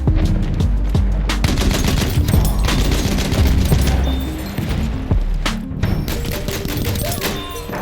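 Rapid, loud bursts of gunfire in Battlefield 1, dense overlapping shots and booming impacts in quick succession throughout, close and intense with no talking.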